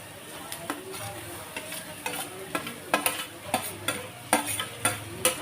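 Raw banana pieces being stirred and fried with chana dal and urad dal in a pan, a soft sizzle punctuated by regular, crisp spoon scrapes roughly every half second, close and clear with no talking.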